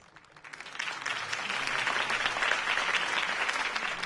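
Crowd applause in the Telltale Batman game, greeting Harvey Dent's campaign speech: it swells from quiet within the first half second into a full, steady roar of many clapping hands that keeps going to the end.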